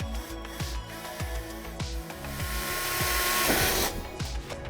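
A battery-powered drill drives a screw into a metal door hasp: a run of quick, regular mechanical pulses from the motor that swells into a louder, steadier whir near the end of the turn.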